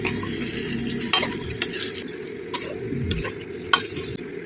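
Chicken pieces sizzle and fry among onions cooked down on a low flame in a pan, with a steady hiss and occasional scraping stir clicks, close and fairly quiet, no voices.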